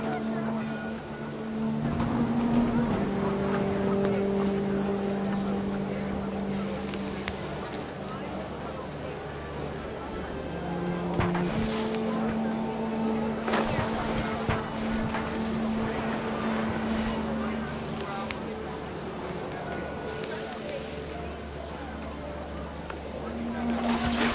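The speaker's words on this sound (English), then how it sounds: "The rain came down in buckets then" Heavy rain and wind storm from the video game What Remains of Edith Finch, a steady dense wash of rainfall with a low droning tone underneath, sustained and fairly loud throughout with no talk.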